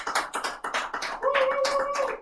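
A small audience at a homebrew beer competition results announcement claps for itself, a loose patter of individual hand claps followed by a brief tonal whoop or voice.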